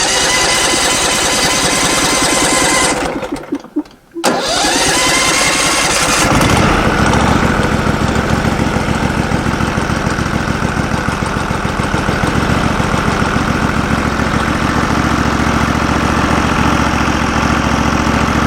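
Gas engine on a Norwood LumberMate portable band sawmill running loud and close, a steady throbbing idle that dips briefly near the start before settling back into a constant rumble.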